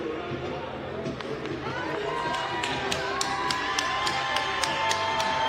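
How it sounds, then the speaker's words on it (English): An arena crowd at a boxing fight night cheers and applauds a boxer circling the ring after the bout, with whoops and shouts rising under continuous commentary talk. "Crowd nonetheless giving an ovation to Antonio Todd, who makes his way around the ring"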